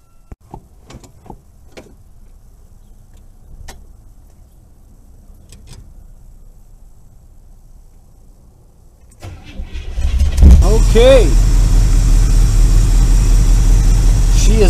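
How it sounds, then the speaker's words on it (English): A car fitted with a new electronic ignition upgrade kit sits quiet with a few clicks and a brief spoken word, then cranks and starts about nine seconds in, settling into a loud, steady idle up close. "She is idling beautiful now with this new kit."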